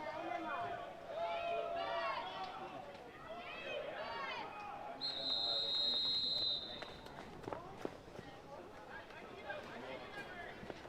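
A referee's whistle at a men's European lacrosse championship game between Austria and Wales, blown for a delay penalty: one sustained shrill blast of about a second and a half, heard amid crowd hubbub and ongoing commentary.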